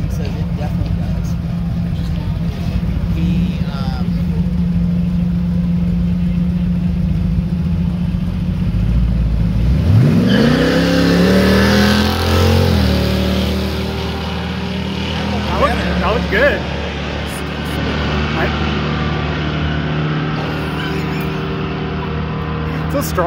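A 1967 Pontiac Firebird 461 V8 with Ram Air II heads and a 4-speed rumbles at idle, then revs hard and climbs through gears, loud and near, holding a strong roar before settling.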